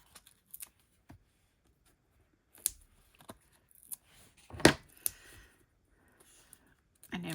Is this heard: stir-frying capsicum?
no